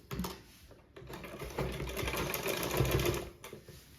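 A sewing machine stitching a cross piece on a blouse neck, a steady close mechanical whir running through with a brief pause near the start and near the end, no talk.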